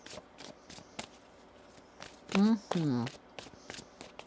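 Tarot cards are shuffled with soft riffling flicks and taps, then a brief voice speaks in the middle, all fairly quiet and close.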